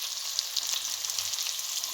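Onions fry in the pan of an idli cooker, a close, steady crackling sizzle with fine popping throughout, no voices.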